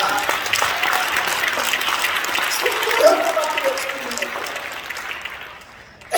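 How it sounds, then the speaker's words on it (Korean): Church congregation applauding during an elders' retirement and ordination service, steady dense clapping that swells slightly midway and fades near the end, with a voice speaking faintly over it. "박수 부탁합니다"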